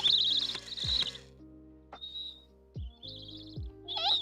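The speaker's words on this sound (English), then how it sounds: "it's sound activated, so every time you talk, it moves. And it makes tweeting noises too," A sound-activated toy bird gives short, bright electronic tweets in several brief bursts. Low background tones hum beneath them, and there is no talk.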